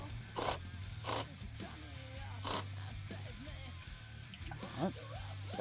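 Ratcheting and tool clicks while loosening the high-pressure fuel pump belt tensioner on a 2012 VW Touareg 3.0 TDI, several short bursts spaced apart over a steady low hum, close by.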